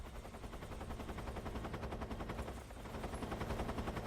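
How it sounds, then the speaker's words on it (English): Rapid, continuous automatic gunfire rattles without pause at a guard in Metal Gear Solid 3, loud and dense throughout with no talking. "I am going to headshot this first guard"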